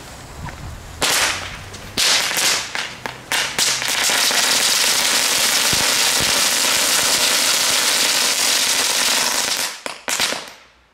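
Magic Whip firecrackers set off in a reverberant space, a brief spark and scattered cracks, then a long, loud, continuous whistling crackle lasting several seconds before it cuts out, with a final burst.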